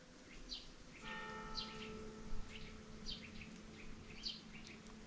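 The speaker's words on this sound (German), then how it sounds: "Gongschlag 1." A single distant church bell strike rings out and hums away slowly, while small birds chirp and tweet faintly around it in quiet open air.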